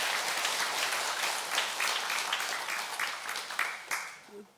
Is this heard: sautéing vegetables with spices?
no